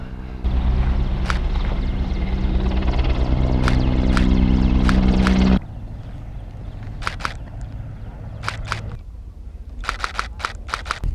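A helicopter roars loudly and low overhead for about five seconds, then cuts off. After that, quieter background remains with scattered sharp clicks.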